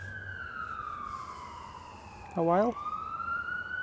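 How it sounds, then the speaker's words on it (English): Emergency vehicle siren wailing in the distance as a steady falling tone, with a brief nearer burst of warbling, under a quiet outdoor background and a short spoken question. "There's a siren."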